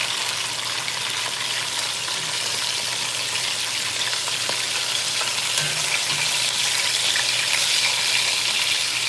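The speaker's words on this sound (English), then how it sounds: "I'm just browning the meat right now." Beef browns in a hot pan for braised beef, giving a constant loud crackling sizzle with occasional spatters, steady throughout and free of talk.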